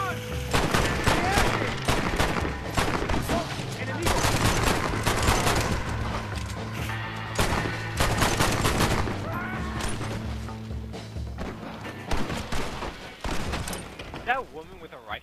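Rapid rifle and gun volleys in the Red Dead Redemption video game, dense overlapping cracks and booms firing in bursts, loud and close, thinning toward the end, with players talking over the shooting.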